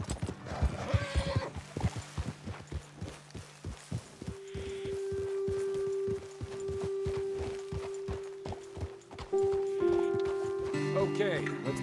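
Horses in Red Dead Redemption 2 give out a steady clip-clop of hooves with a whinny or two, loud and close, while a rider's voice talks over the top and a sustained musical tone runs beneath.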